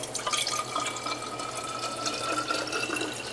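Fresh juice pours from a beaker into a bottle, a continuous trickling splash that stays steady and close for the whole stretch, with no talk.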